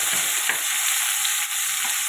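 Amla (Indian gooseberries) hit hot oil with chilli and black mustard seeds for a raw mango chutney, giving a loud, continuous hiss of sizzling with faint stirring beneath, close and steady throughout.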